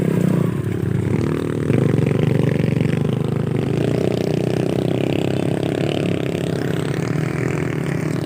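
Motorcycle engines roar close by near Barikut View Deck, one revving and accelerating past as the engine noise rises and stays loud throughout, with some rattling clatter.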